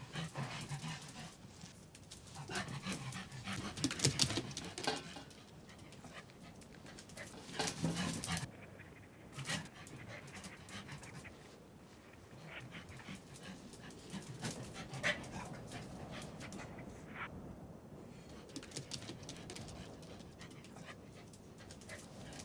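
Coyote pups in the Grand Canyon pant and shuffle about close by, a steady breathy panting with scattered rustling and movement noises throughout, no voices.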